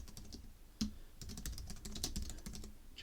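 Keys tapped on a computer keyboard in a quiet room, a soft, close, irregular run of clicks with one firmer keystroke near the start and no voices.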